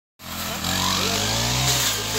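A grass cutter engine starts abruptly and runs loud and close, a steady buzzing drone that rises slightly in pitch as it revs.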